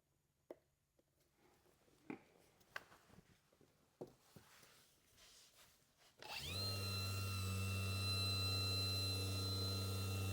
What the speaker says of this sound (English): Little 3-inch polisher.